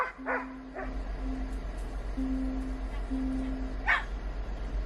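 Dogs bark in a few short, sharp yips near the start and again just before the end, close by, over a steady low hum and a faint intermittent tone.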